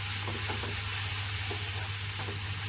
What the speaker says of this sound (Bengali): এবার দিয়ে দিচ্ছি অল্প পরিমাণে জল জল দিয়েও কিন্তু ভালো করে কষাতে হবে